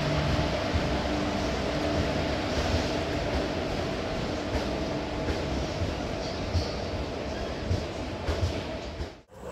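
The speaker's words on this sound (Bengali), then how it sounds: "শালিমার থেকে পুরী জগন্নাথ এক্সপ্রেস কিন্তু এখানে চলে এসেছে" The Shalimar–Puri Jagannath Express pulls into a station with a continuous loud rumble of wheels and carriages, steady and broadband throughout before cutting off abruptly at the end.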